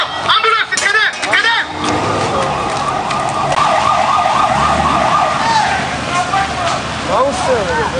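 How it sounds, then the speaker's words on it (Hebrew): Ambulance sirens wailing in a repeating up-and-down pattern close by on a street during a missile attack in Haifa, Israel, loud over traffic noise, with people shouting and talking throughout. "תנו לאמבולנסים לעבור!"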